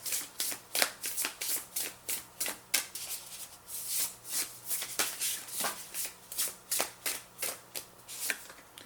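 Oracle cards from a 7 Energies deck shuffled by hand in a steady, repeated riffling rhythm, close and crisp, with no talking over it.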